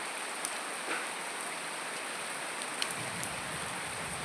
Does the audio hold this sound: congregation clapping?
no